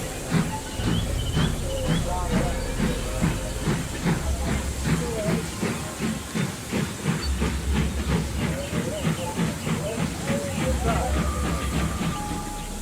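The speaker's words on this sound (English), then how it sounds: "And with that, the K2 steamed away." A steam locomotive chuffs in a steady, regular rhythm, hissing with each puff, loud and close, with faint background voices over the rolling beat.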